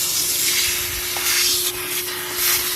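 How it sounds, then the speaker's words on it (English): A steady vacuum cleaner roars nearby with a broad hiss, its pitch shifting slightly as it sucks up loose debris from a greasy 1995 Jeep Grand Cherokee engine bay, with no talking. "easiest with the vacuum."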